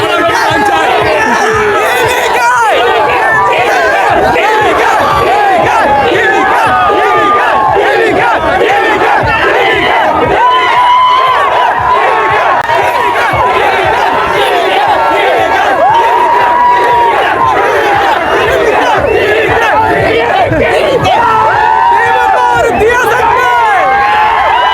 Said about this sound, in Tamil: இந்த மாதிரி தளபதிக்காக தரமான சவுண்ட் கொடுத்தாங்க நம்ம பசங்க